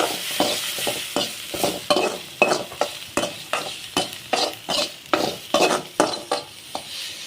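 Chili powder and spices sizzle and fry in a hot pan for brinjal gravy while a spoon stirs in a steady rhythm, scraping bursts repeating about once a second, close and clear.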